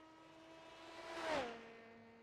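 A race car in a sim racing game at the Belle Isle street circuit approaches and passes, its engine note rising to a whining peak and dropping in pitch as it goes by, fairly faint.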